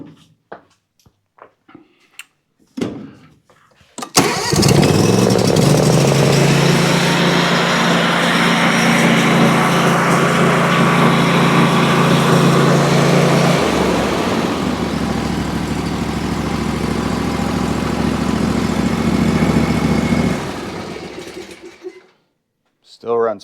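The Briggs & Stratton engine on a Ferris IS3000Z zero-turn mower cranks, catches and runs loud and steady for about sixteen seconds, its pitch dropping partway through, then shuts off; a few clicks and talk come before it starts.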